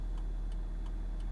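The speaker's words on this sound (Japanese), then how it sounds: "指示器はこんな感じの音です。" A 14-year-old Suzuki Swift turn signal ticks four times in an even rhythm inside the cabin, over a steady low engine hum.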